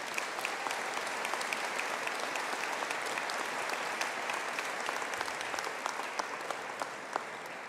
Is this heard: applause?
yes